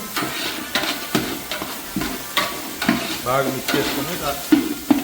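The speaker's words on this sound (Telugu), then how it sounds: "మనం అల్లం వెల్లుల్లి పేస్ట్ వేసుకున్నాం. నేను 2 స్పూన్లు వేసాను. ఇది బాగా మిక్స్ చేసుకొని" Ginger garlic paste frying in a pot for bagara rice, stirred with a spoon: loud, close scraping strokes in a quick uneven rhythm over a constant sizzle, with no voices.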